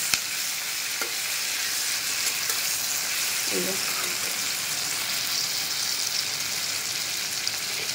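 Cashews fry in a pan with a steady, close sizzle that crackles continuously, with a soft stirring clink or two along the way.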